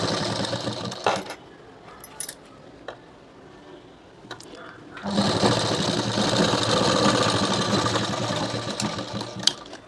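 Sewing machine stitching a child's blouse, a steady close whirring that starts after a few seconds of quieter handling noises and light clicks, then runs continuously to the end.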